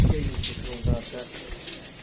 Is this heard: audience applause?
no